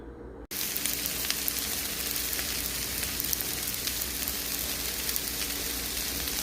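Eggplant and onions frying in a pan for ratatouille, a steady dense sizzle that holds at an even level after a brief silent start, close and continuous with no talking.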